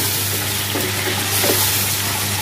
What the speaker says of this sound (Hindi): चिकन का कलर चेंज होने पे तक मैं इसे भूनूंगी।